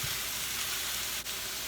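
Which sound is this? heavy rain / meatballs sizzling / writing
meatballs sizzling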